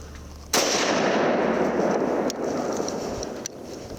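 A single modern gun fired while hunting, a sharp loud blast that rolls into a long echoing boom across open country, fading over several seconds with faint later cracks.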